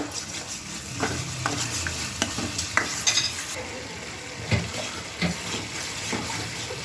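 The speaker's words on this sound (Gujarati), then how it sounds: "હવે એમાં દળેલું ધાણા જીરું નાખીશું, હલાવીશું।" Pav bhaji being stirred in a pan after ground coriander-cumin powder is added, with a steady close sizzle and scattered scraping clinks of the spoon against the metal, no voices.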